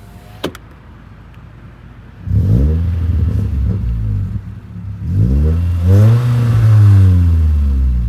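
A modified 2007 Nissan Sentra SE-R Spec V with a Borla muffler, harmonic header and gutted catalytic converter revs twice, each throttle blip rising into a loud, rasping exhaust note that hangs before easing off.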